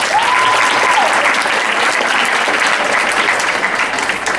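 An audience at a Miss Black & Gold pageant applauds the contestants, loud, dense sustained clapping filling the whole stretch without pause.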